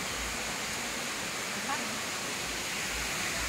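Tumalog waterfall in Oslob, Cebu roars as a steady, close broadband rush of falling water, constant throughout with no voices standing out.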